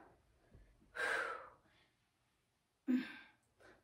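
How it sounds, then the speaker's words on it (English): Inhaled and exhaled breaths during a vinyasa yoga practice: two separate breathy gusts a couple of seconds apart with a short third at the end, close and fairly quiet with near-silence between. "We're inhaling as we come up."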